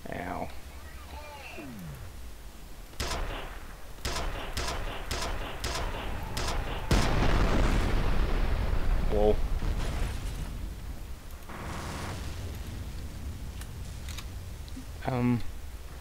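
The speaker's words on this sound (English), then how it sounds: "Too many grenades." Grenade blasts in the shooter game F.E.A.R. Extraction Point, a run of sharp pops followed by a long, loud rumbling collapse, close and heavy, with a few further bursts near the end and people talking over it.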